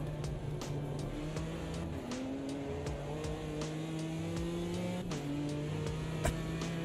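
Race car engine in a sim racing game, held at a steady drone with gear-like pitch shifts and brief dips as the throttle is feathered through a corner, fairly faint and continuous.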